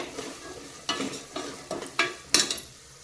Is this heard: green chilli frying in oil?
yes